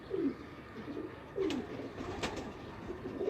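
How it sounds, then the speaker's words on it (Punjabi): A breeder pigeon coos close by in soft, low, rolling calls that repeat several times in quick succession over a quiet background, with no talking. "ਚੌਧਰੀ ਸਾਹਿਬ ਇਹ ਕਬੂਤਰ ਲਿਆ ਕੇ ਦਿਖਾਇਆ, ਇਹ ਕਿਹੜਾ ਕਬੂਤਰ ਹੈ?"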